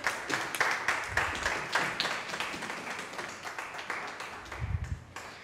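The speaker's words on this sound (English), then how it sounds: "Give her a round of applause." Hands clap in a church gathering, a dense, lively patter of many claps carrying on for several seconds with a few low thumps underneath.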